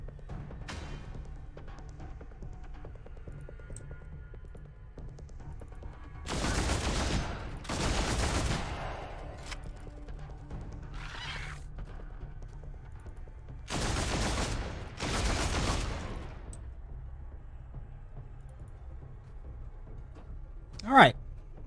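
Bolter gunfire in the Warhammer 40k: Deathwatch video game comes as two pairs of loud, broad bursts spaced several seconds apart, followed by a sharp single crack near the end, over a steady low background hum.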